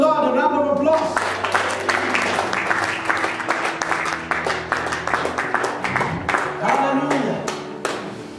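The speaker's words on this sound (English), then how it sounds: "Somebody give the Lord a round of applause." A church congregation claps steadily in sustained applause through the whole stretch, the dense clapping loud and close, with organ-like keyboard tones and raised voices mixed in beneath.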